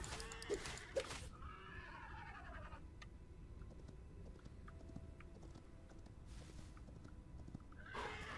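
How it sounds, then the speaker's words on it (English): Skeleton horses in the video game Hytale neigh and whinny near the start, with clopping hooves, then the scene drops to quiet ambient game sound, and a brief return of noise comes at the end. "Skeleton horses."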